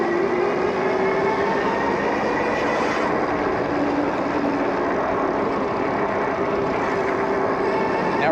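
Steady, loud roar of wind buffeting the rider of an electric bike cruising through a California beach town, a constant broadband rush with no talking.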